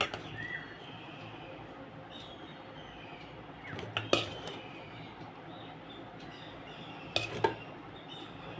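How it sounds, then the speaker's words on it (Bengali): Rice being served from a pot with metal utensils in a home kitchen, two sharp clusters of clinks and scrapes against a quiet background. "এবার একটু ভাতটা বেড়ে নিই।"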